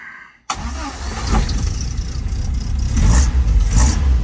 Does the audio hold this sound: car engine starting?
yes